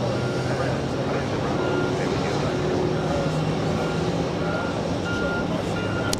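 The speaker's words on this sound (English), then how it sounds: "we have Delta, another 767 flying in from Barcelona." A Delta Boeing 767 arriving from Barcelona lands on runway 31 right at JFK airport: a steady, loud broadband jet roar holds throughout, with faint tonal hums and thin beeps in the background.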